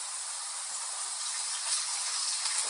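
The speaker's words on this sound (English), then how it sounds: "And now I'm adding the saltfish." Saltfish cooking in a pan on medium heat for a Jamaican dish, a steady close hiss of frying with no break and no talk.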